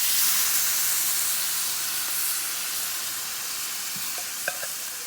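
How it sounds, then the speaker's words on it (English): Canned coconut milk poured over toasted spices in a pan for dahl, a steady sizzling hiss with stirring, loud at first and easing slightly, with a few faint utensil clicks near the end. "we're going to add our coconut milk"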